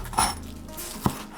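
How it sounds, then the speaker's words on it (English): A knife chops spring onion on a board, two distinct knocks spaced apart, fairly quiet and close with a light clink of kitchenware. "let's cut up some spring onion"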